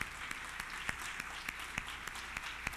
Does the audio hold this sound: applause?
yes